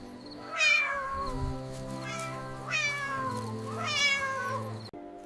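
Three drawn-out, rising-and-falling kitten meows, close and clear, spaced a second or two apart over a steady low hum.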